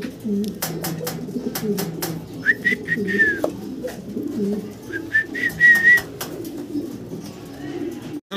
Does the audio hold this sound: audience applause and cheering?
no